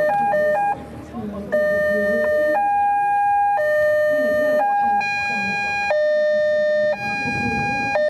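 A vintage Lada police car at a classic car event sounds its siren, a loud two-tone wail alternating steadily between pitches and close to the listener, with crowd noise faintly underneath.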